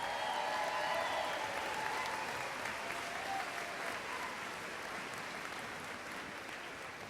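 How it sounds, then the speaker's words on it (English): An audience at a university graduation ceremony applauds the master's graduates of a College of Arts and Sciences, a steady wash of clapping that fades gently over several seconds. "a round of applause for the master's graduates from the College of Arts and Sciences"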